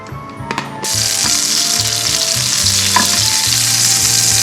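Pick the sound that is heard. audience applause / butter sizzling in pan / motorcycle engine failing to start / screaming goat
butter sizzling in pan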